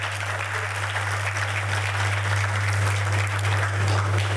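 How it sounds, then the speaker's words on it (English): Audience applause at a Kenyan business event, steady dense clapping holding at an even level through the whole stretch, with a strong low hum running constantly beneath it. "please join me in a round of applause for them."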